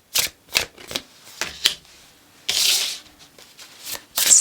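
Tarot cards being shuffled and riffled in repeated crisp bursts, close and clear, with one longer rustling stretch in the middle and short pauses between the bursts.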